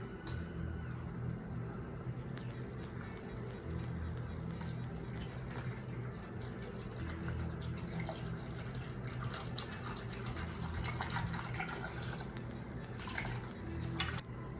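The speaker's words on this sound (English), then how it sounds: "I'm gonna add some water." Water pours steadily into an almond milk smoothie in a blender jug, a soft, continuous splashing trickle lasting several seconds with no talk.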